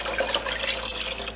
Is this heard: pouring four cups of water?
yes